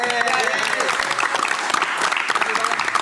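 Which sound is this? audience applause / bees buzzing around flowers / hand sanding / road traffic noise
audience applause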